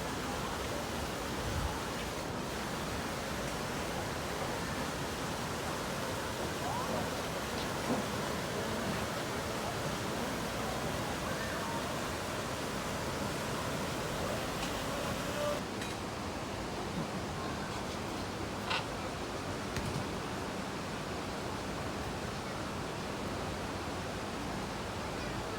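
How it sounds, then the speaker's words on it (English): Düden Waterfalls in Antalya roar as a dense, constant rushing of falling water, loud and unbroken throughout, with faint voices barely showing beneath the wash. "that's the water I was hearing"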